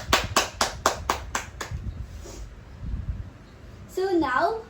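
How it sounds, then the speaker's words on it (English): Schoolchildren in a sixth-grade classroom clap for a classmate, about seven quick, sharp claps in a steady rhythm, followed by murmuring voices and a teacher's voice speaking near the end. "Let's clap our hands to"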